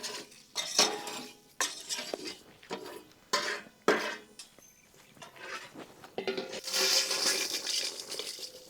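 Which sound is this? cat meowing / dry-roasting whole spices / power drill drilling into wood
dry-roasting whole spices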